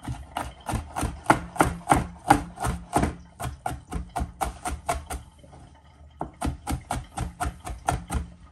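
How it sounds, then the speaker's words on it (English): Garlic chopped with a knife on a board for a lamb rack dish: steady rapid knocks, about two per second, close and crisp, with a brief pause midway before the chopping resumes. "So while I'm chopping the garlic,"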